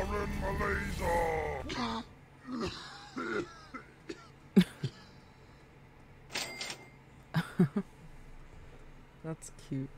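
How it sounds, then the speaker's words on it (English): A gamer coughs and clears his throat several times in short, separate bursts while playing Henry Stickmin: Infiltrating the Airship, close to the microphone amid quiet gaps and a little speech. "That coughing is also me"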